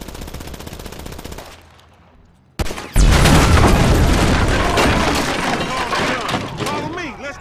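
Rapid bursts of automatic gunfire and heavy booms from a Grand Theft Auto 5 battle, loud and dense, with shouting voices mixed in after a brief lull.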